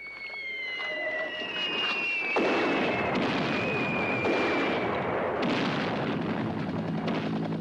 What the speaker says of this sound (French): L'artillerie arrive.